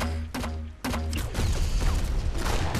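Gunfire in the Battlefield Heroes video game, a few sharp separate shots followed by a dense burst of rapid blasts and crashing impacts, loud and close over a low rumbling background.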